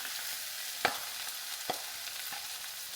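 A fish and potato cutlet mix fries in a pan with a steady, close hiss of oil. A couple of louder scrapes from stirring cut through the sizzle, and no one speaks.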